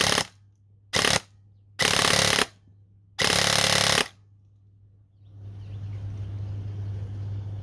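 An airsoft gun fires full auto in four loud, close bursts of varying length with short gaps, then a low motor hum and hiss take over.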